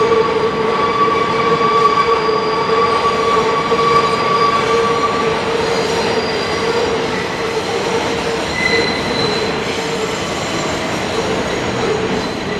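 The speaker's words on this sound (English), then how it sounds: "We're now where the 7 train makes the turn" A New York City 7 subway train rounds the curve onto Queensboro Plaza in Long Island City, Queens, giving a loud, continuous metallic rumble overlaid with sustained high wheel squeals that waver and shift pitch, heard up close throughout.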